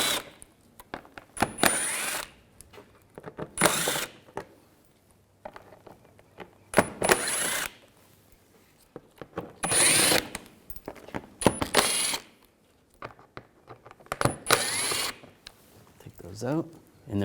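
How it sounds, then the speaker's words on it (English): A power driver fitted with a T25 socket backs screws out of the undershield of a 2011-2018 Volkswagen Jetta 2.0L, in several short whirring bursts separated by pauses, with someone talking between them. "I'm going to use a T25 socket. Take these screws out on the sides."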